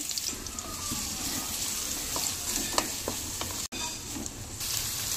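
Onion frying in oil in a pan, a constant close hiss of sizzling with a few soft clinks and scrapes of stirring, and a brief dropout partway through, no talking.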